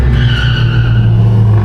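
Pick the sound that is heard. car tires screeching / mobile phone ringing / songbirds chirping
car tires screeching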